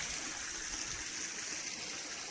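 Spring water flowing out from beneath a mountain in the jungle beside a nearly dry creek, a soft, continuous rushing hiss with no break, quiet and steady.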